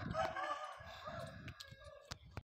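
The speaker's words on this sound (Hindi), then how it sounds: "भाई, हमारे मुर्गी की आवाज़ें सुन रहे हो ना आप।" Chickens cluck and crow close by, a busy flock of overlapping calls with sharp clucks punctuating the end, and someone talking over them.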